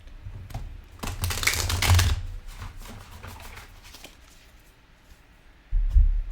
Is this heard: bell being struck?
no